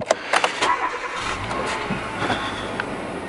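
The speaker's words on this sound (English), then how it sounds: "I'll start the car up because I need to get some packages." A car engine cranking and catching on an icy morning, then settling into a steady idle, loud and close with a few clicks at the start.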